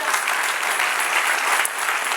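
A church congregation applauds during a Spanish-language worship service, a steady, dense wash of many hands clapping at once, sustained at even loudness for the whole stretch without pause.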